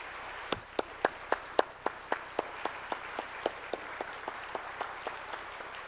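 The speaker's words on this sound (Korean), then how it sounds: "우리 나오실 때 뜨거운 박수로 환영하겠습니다." Congregation clapping to welcome a preacher at a Wednesday church worship service, with sharp, evenly spaced claps in a steady rhythm over a soft background of looser clapping. The rhythmic claps gradually grow quieter.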